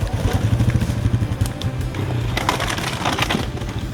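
Motorbike engines labouring up the rocky ledges of Kabarana Pass during a mountain charity ride, a loud, close, pulsing engine drone with rough throttle bursts and clattering over rock.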